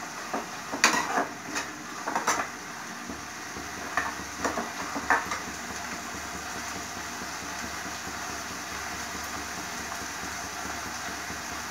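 Chopped onions and tomatoes fry in a pan for chana dal, giving a steady, even sizzle with a few sharp clinks of stirring near the start.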